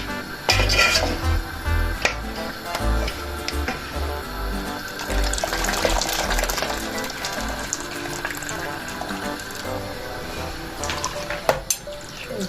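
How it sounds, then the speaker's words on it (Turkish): Strips of su böreği dough drop into a bowl of cold water in a kitchen, with watery splashes and sloshing, occasional clinks of a metal strainer against dishes, and a steady background hiss. "Direkt soğuk suyumuzun içerisine atalım ki hamurumuz kesilmesin."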